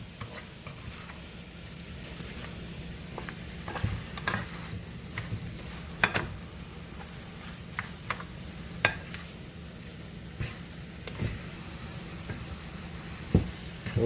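Half-cooked Jamaican callaloo greens with bacon and a little salt are stirred in a pot, with a soft constant sizzle beneath irregular scraping and tapping strokes of the spoon, close and fairly quiet, with no talk.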